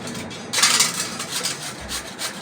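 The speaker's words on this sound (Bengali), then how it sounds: "এই আলুটাকে আমি গ্রেট করে নেব।" A raw, medium-sized potato is rubbed against a grater in short, rasping strokes, up close with no talking.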